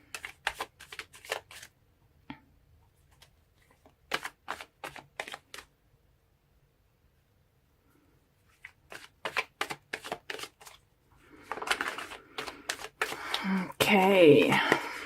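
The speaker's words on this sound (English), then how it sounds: "So let's pull more cards and see what we can get." Tarot cards being shuffled in a love reading, several bursts of soft papery riffling and flicking spread across the clip, louder and denser toward the end, with no talk over them.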